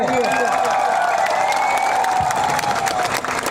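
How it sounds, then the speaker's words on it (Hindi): A large crowd at a political mass gathering in Ambassa claps and cheers for a party leader, a loud continuous wash of applause under a sustained tonal drone and a voice over the PA. "पू बीके रंखोल के लिए ताली मारिए"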